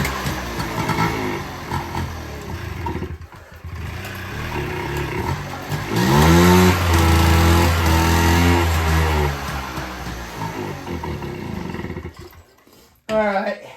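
The small engine of a 1978 Honda Hobbit moped runs close by with a steady buzzing drone, rising in pitch as it revs mid-way, then settling before cutting out near the end.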